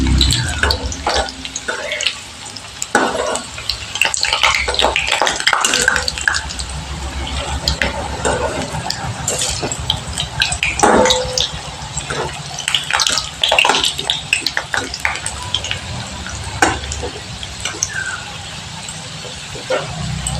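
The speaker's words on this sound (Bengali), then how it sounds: "এবার পুরিগুলোকে তেলের মধ্যে আমি একটু ভালো করে ভেজে নিচ্ছি।" Carrot-filled puli pitha dumplings frying in hot oil give off a steady, dense crackling sizzle with scattered sharper pops, fairly close and continuous throughout, with no talking.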